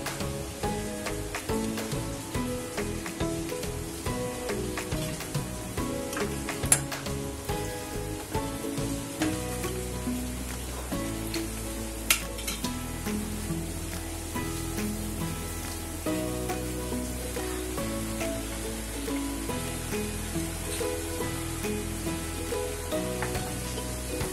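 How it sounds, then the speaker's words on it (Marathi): Karanji pastries, half-moon sweets with a fresh coconut filling, fry in hot ghee with a steady, bubbling sizzle that runs the whole time at an even, close level, without any voices. "बघूया, तुपात तळतोय आपण."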